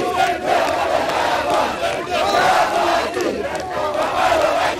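Compatriots of the Congolese president crowd around him at N'Djamena airport, a loud, close mass of voices cheering and shouting continuously with no single speaker standing out.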